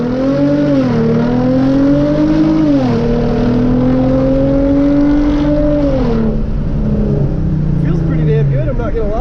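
Hyundai Genesis Coupe engine revving loudly as the car launches with traction and stability control off, a steady rising drone that climbs, dips and climbs again before tapering off.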